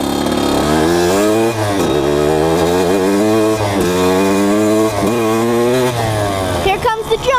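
A two-stroke motorcycle engine roars loud and close while being ridden, its buzzing pitch rising and falling with throttle changes throughout.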